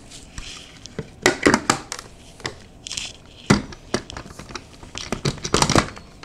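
Apple cider vinegar and vegetable oil are mixed together into a marinade for Cornell smoked chicken, heard as close, uneven clinks and scrapes of a utensil against a container in quick bursts, with no talk.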